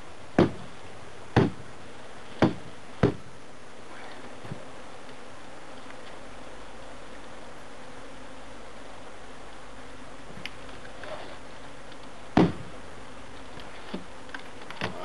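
Honey bees hum faintly inside a freshly shipped nuc box, a soft, steady low buzz, broken by a handful of sharp knocks and taps near the start and again later.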